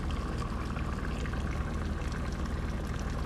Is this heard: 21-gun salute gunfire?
no